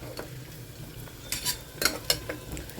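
Onions fry in a pan with a soft, low sizzle underneath a few brief spoon scrapes and clinks as they are stirred, close and fairly quiet.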